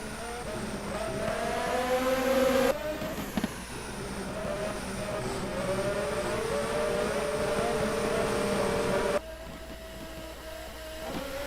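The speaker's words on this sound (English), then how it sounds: "as the cars start to accelerate, heading into the home stretch" Race cars in an IndyCar racing video game accelerate at Milwaukee, their engines producing a steady, high, whining drone that rises in pitch, holds loud and continuous, then eases off near the end.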